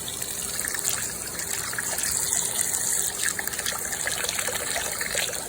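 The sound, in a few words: washing bowl with running hot water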